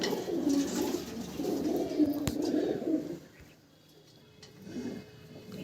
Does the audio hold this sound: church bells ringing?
no